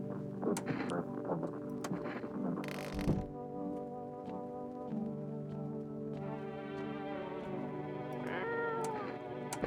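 A cat in a video game meows repeatedly, several drawn-out, wavering cries with a brief thump partway through, over a soft steady background.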